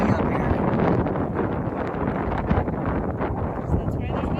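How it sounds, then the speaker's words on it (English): Strong wind buffets the microphone in a steady, heavy roar with gusty surges throughout, loud and close, at Paint Mines Interpretive Park, Colorado. "so windy up here."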